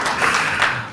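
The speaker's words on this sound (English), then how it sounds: "Come on, guys, clap for Cedric." A conference audience at AfPIF 2026 claps in a short, dense burst of steady applause that fills the whole moment, with no voices over it.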